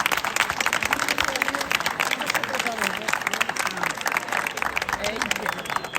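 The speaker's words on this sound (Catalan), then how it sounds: "Un fort aplaudiment." School audience at a Sant Jordi celebration giving a loud round of applause, dense continuous clapping filling the room with crowd voices and chatter underneath, sustained throughout.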